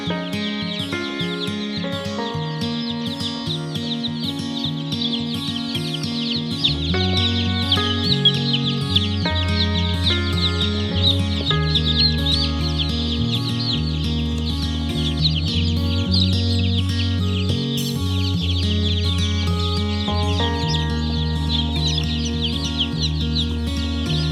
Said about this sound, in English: The unboxing of a lot of chicks.